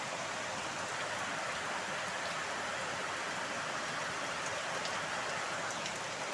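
Heavy rain falls without letup, a loud, continuous close-up patter and hiss of drops striking surfaces, steady from start to finish with no talking.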